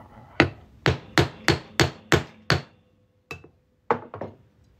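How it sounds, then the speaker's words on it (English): A series of sharp metallic hammer strikes driving a center punch through a quarter coin, seven in quick steady rhythm, a pause, then a few more blows, close and loud. "Gonna hammer this right through."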